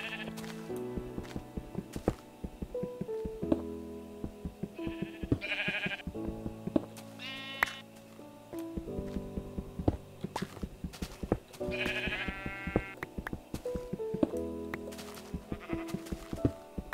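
Sheep in Minecraft bleat repeatedly, the blocky game bleats arriving in several separate bursts at moderate loudness over steady in-game background sounds, with no talking.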